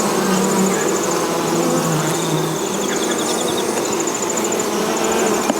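A honey bee colony drones in a dense, continuous buzz close by during a late-summer hive inspection for foulbrood, with no voices over the steady hum.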